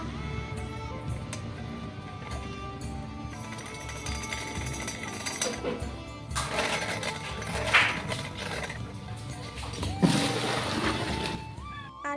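Water being fetched from a village well in Assam, with splashing and sloshing over a busy, noisy outdoor background and a couple of louder splashes partway through.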